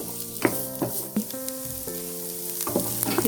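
Sliced onions and chopped green chilli sautéing in a pan for egg 65, a close crackling sizzle with repeated stirring scrapes and knocks and some ringing tonal squeaks over it.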